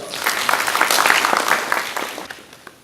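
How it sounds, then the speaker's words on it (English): A stakeholders forum audience applauds attendees, a dense wash of many hands clapping at steady loudness before tapering off near the end. "can we all give them a clap?"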